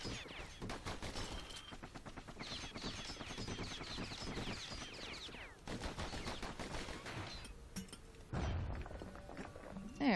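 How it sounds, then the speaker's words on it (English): Enemy gunfire in the video game Bastion, a dense run of rapid shots and impacts that continues steadily through the whole stretch behind busy game sound and music. "Good thing pincushions can't see where they're shooting."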